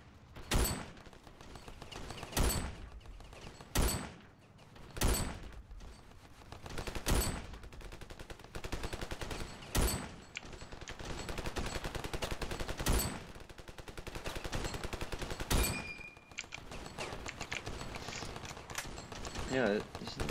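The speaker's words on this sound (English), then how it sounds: "Who the heck is shooting at me?" Gunfire in Ravenfield, loud single shots cracking every couple of seconds and then denser firing, heard over a player's ongoing talk.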